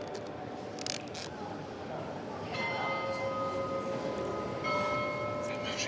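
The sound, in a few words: carillon bells ringing at Notre-Dame de Paris cathedral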